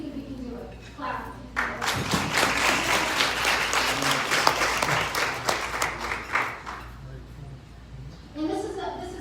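An audience at a talk claps together on request, a burst of clapping that rises quickly, holds for several seconds and then fades, with a speaker's voice heard before and after.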